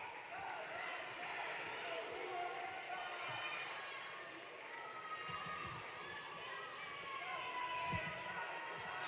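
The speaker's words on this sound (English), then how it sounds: "Swimmers on the scoreboard end of the pool cheering on their teammates" Swimmers at the scoreboard end of a swimming pool cheer on their teammates, a steady crowd of distant shouts and voices echoing in an indoor pool hall, with talk mixed in.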